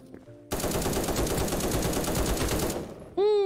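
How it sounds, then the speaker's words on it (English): Sustained LMG machine gun fire in the browser shooter Krunker, a loud dense burst of rapid shots lasting over two seconds, followed after a short gap by a bright ringing tone. "Man with the LMG is insane."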